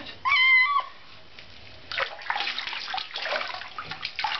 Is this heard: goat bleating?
no